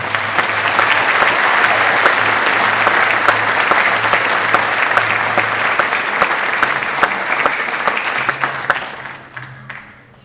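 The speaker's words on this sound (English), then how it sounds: "Let's give them another round of applause." An audience applauds a high school band at an awards presentation in Clinton, Illinois, a loud sustained wash of clapping from many hands that carries on for several seconds before tapering off at the end.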